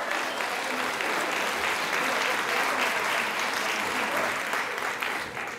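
Audience applauding Francine during a talk on impact technique with illustrations: steady, dense clapping from a room of people, sustained evenly throughout at a moderate level with no voices over it.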